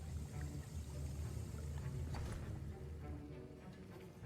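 Hogwarts Legacy potion brewing: a steady liquid swirl and gentle sloshing of a stirred cauldron, continuous and fairly close under a low ambient hum.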